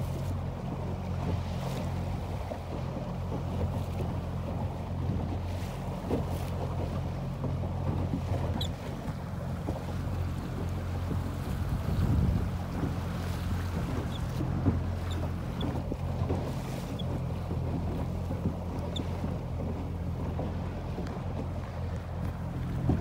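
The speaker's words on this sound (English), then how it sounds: "I'm taking a boat." A boat moves on open water in steady wind, with a constant low engine-like drone and wind buffeting across the microphone throughout, no voices.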